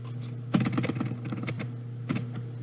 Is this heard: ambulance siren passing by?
no